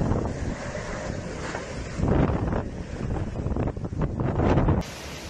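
Hurricane-force typhoon winds of Typhoon Mindulle in Japan roar continuously in loud broadband gusts, with rising surges of buffeting and a sudden cut-off near the end.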